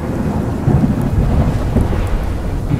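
Loud, rolling thunder rumbles continuously with a steady wash of rain beneath it, deep and heavy throughout, with no voices present.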